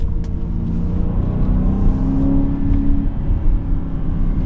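A 2024 Aston Martin DBX engine accelerates from inside the cabin, a deep, loud rumble whose pitch climbs steadily as it pulls hard, then eases slightly near the end.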